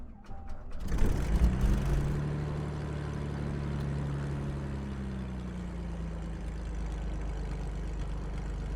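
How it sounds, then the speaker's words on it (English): A Lancair aircraft engine in a flight simulator cranks with a brief whir, then catches with a loud roar and settles into a steady, rumbling idle with a low propeller drone. "listen for the tasty engine start"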